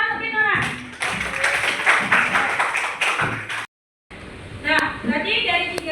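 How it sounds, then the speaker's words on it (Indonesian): A classroom applauds a student, brief scattered clapping from a small group, broken by a short silent gap and followed by more taps, with a teacher's voice talking over parts of it. "tepuk tangan untuk Tino, Nak."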